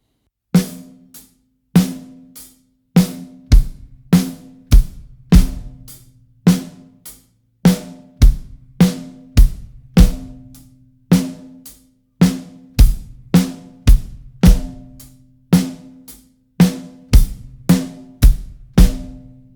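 A slow, steady rock drum beat played alone, with a kick drum landing at the start of each bar among sharp snare and cymbal hits.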